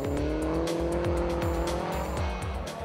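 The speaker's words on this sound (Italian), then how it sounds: "Oronzo Montanaro, il pugliese che sulla nuova Mini Cooper ha accusato delle noie ai freni in gara" A new Mini Cooper race car with brake trouble runs a hill climb race, its engine droning steadily with repeated rhythmic revs and gear changes, tires squealing faintly, loud and continuous.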